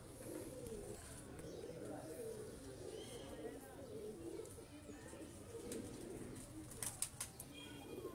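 Soft pigeon cooing runs throughout beneath people talking, with a few brief fluttering or clicking sounds near the end.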